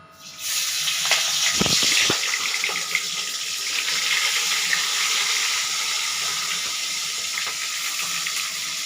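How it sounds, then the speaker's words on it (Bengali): Prawns frying gently in hot oil, a steady bright sizzle and hiss that holds throughout, with a couple of soft clatters near the start. "তেল গরম হয়ে গেছে, এবার আমি চিংড়ি মাছগুলো আস্তে আস্তে হালকাভাবে ভেজে নেব।"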